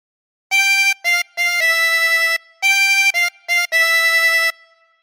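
Tremolo harmonica with 24 holes playing a phrase of Three Blind Mice alone: seven bright, reedy notes in two groups, each group a long held note, two short ones and a final sustained tone, with a brief pause between the groups.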